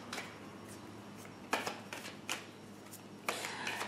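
Tarot cards being shuffled in quick riffling bursts, with short flurries of papery rustling separated by quieter pauses, close by.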